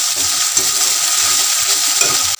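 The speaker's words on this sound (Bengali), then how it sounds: "একটু তেল দিয়ে দেব, সব কিছু দিয়ে মশলাটা ভালো করে কষিয়ে নেব।" Masala fries in oil as it is stirred, for a katla fish kalia, a close, loud, steady sizzle broken by a few clinks and scrapes of the stirring spoon, with no voices.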